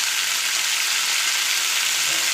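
Capsicum and onion sautéing in a pan, a loud, steady, even sizzle filling the whole moment without pause, close and alone.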